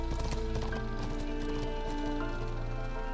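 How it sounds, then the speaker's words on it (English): A horse-like clip-clop in a video game, a rapid rhythmic clatter of hooves over a dense, steady layer of tonal game audio and droning hum. "It almost sounds like a horse."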